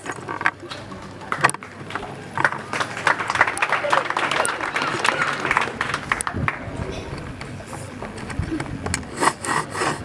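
Clapping rises from the audience at a secondary school graduation ceremony, uneven bursts of hands mixed with shuffling and scattered voices, moderately loud and somewhat distant.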